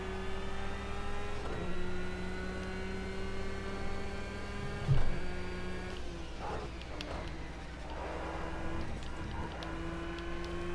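A vehicle in the video game Universe Zero drives with a quiet, steady engine hum of sustained tonal layers that shift pitch slightly, plus a few soft bumps and clicks, all faint and continuous.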